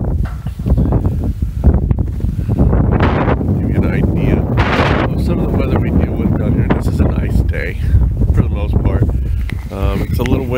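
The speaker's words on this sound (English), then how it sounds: "It's a little windy, not too cold though" Strong wind buffets the microphone outdoors behind a shop, a loud continuous roar with gusty thumps, while someone talks over it.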